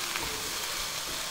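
Pre-chopped spinach with a little salt sizzles and crackles steadily in a covered pan, a continuous soft frying hiss with no voices.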